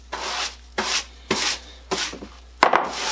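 A stiff whisk broom scrapes across a surface in five short, rough strokes with brief pauses between them. Each stroke is a close, gritty brushing rasp, and the last one is a little sharper than the others.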